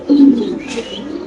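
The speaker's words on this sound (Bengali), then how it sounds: "এটা একটা মাদি কবুতর, কালো শৌখিন কবুতর ভাই" A black fancy female pigeon, a ringed farm-kept bird, gives a short low coo close by, with faint background noise around it.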